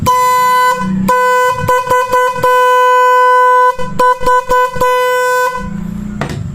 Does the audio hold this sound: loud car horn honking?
yes